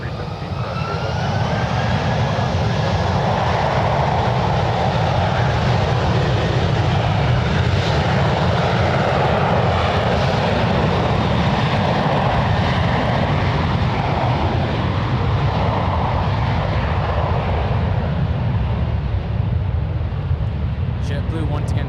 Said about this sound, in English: The Alaska Embraer, who's going to lift off first